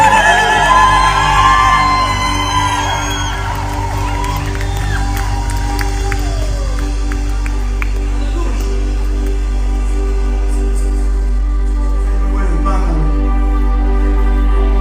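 A church worship crowd ululates and cheers in praise, with warbling high cries and shouts rising over sustained keyboard music. The cheering is loudest at the start and swells again briefly near the end.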